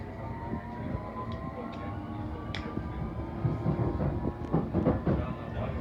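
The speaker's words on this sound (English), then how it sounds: "This is the Hammersmith and City Line train to Hammersmith." A London Underground Hammersmith & City Line train running between stations, a steady low rumble of the carriage with rising and falling tonal whines and rattling clatters growing louder toward the end, with no talk.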